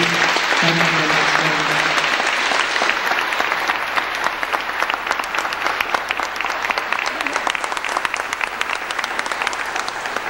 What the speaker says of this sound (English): I'd like to have a round of applause because some of our employees will have to leave.